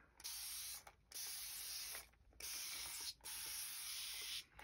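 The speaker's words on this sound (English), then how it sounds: "I'm just going to spray it with water." A spray bottle mists water onto the paper of a Superman #9 comic book during conservation mending, four close, crisp hissing bursts of about a second each separated by short pauses, with no voices.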